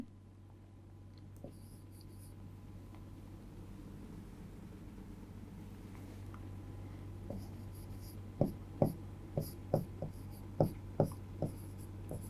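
A teacher writes notes for a chemistry class, a series of sharp, evenly spaced taps and scratches of chalk or marker on a board, growing busier toward the end over a steady low room hum.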